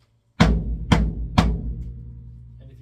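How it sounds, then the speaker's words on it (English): Three loud, deep hits on a 16-inch floor tom fitted with DedHeds drumheads and no studio ring, each strike booming low and decaying quickly with a short tail, spaced about half a second apart and heard alone. "just to give you an idea of the 16-inch floor tom without the studio ring"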